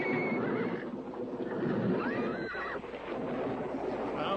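A horse whinnies loudly and close, a long wavering neigh followed by a second shorter call, with faint hoof shuffling beneath and no voices.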